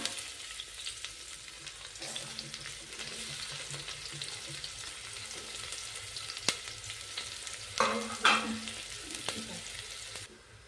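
Onions frying in hot oil in a pan for spinach pulao, a steady soft sizzle throughout with occasional scraping stirs and clinks near the end, close and moderately quiet.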